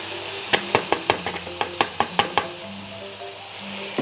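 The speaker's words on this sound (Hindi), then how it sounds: "अब ये बिल्कुल तेज़ आंच पे जो है ना इसको हमने स्टर फ्राई करना है" Cauliflower is stir-fried over high heat, with a quick run of about a dozen sharp clacks of a spatula against the pan above a low sizzle, then the tossing settles into quieter frying.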